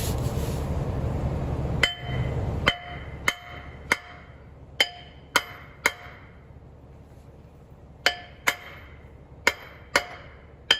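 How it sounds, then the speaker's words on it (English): Hammer blows ring out on metal, flattening a part during a third-generation Camaro Z28 automatic-to-manual swap, about a dozen sharp, clanging strikes in uneven bursts with short pauses between, close and clear. "I'm gonna get the hammer, bing, bing, bing, bing, bing, bing, bing, bing, flatten"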